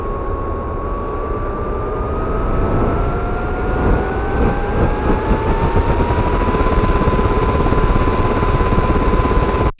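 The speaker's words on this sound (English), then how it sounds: "this is my helicopter patch, and you hold down a key, and you can play with the mod wheel to start the engine" A synthesized helicopter engine from the SFX Pro 9000 preset starts up: a dense, loud turbine roar with whining tones that slowly climb in pitch as it spools up, continuous and close, with no talk.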